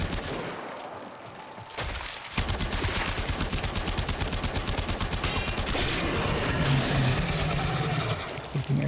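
Rapid automatic gunfire in a video game, a dense, steady rattle of shots that starts abruptly after a quieter opening and continues loud and close, with an engine-like hum underneath near the end.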